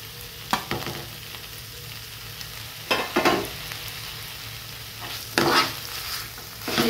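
Brinjal bharit mixed with fresh green chili and chopped coriander: a few distinct scraping and stirring strokes, spaced a second or two apart, over a quiet background, with no voices.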